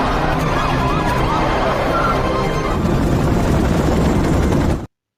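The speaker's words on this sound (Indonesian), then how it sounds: "Dengan mengerahkan helikopter dan mobil patroli, polisi pun berhasil mengepung mobil Lee" A police helicopter and patrol car sirens from a film chase scene, forming a loud continuous drone and wail that holds steady before cutting off abruptly near the end.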